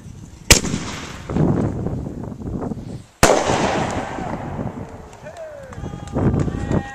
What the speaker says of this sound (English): We get fireworks